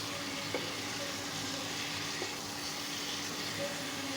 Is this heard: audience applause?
no